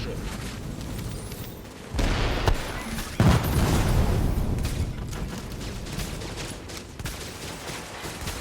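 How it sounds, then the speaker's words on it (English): Grenade blast and gunfire in a sniper shooter video game, with a loud boom near two seconds, another sharp burst past three seconds, then dense rumbling shots continuing steadily to the end. "I'm gonna try to throw a grenade on him and get another free kill on him"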